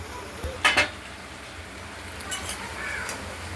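A metal lid is set down on a cooking pot of five-vegetable curry with jackfruit seeds, giving a brief double clank early on, followed by a faint, quiet kitchen background.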